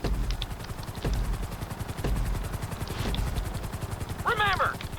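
Helicopter flying in GTA 5 flight school, a close rapid rotor chop with engine whine beating steadily throughout, while a voice talks briefly over it near the end.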